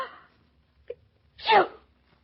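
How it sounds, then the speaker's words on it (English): A sneeze heard close and fairly loud: a brief inhaled catch, then one sharp burst that tails off, with short vocal sounds just before. "Claudia, you sneezed."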